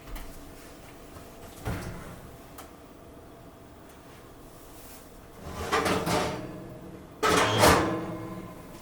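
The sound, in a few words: oven door opening to take out beef tehari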